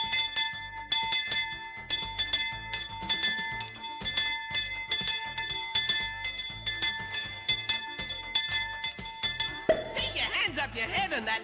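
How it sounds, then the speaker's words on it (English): A bell rings repeatedly in a steady ringing pattern with sustained tones, mixed with music and other sounds throughout, ending in a busier noisy passage. "That was the bell ringing"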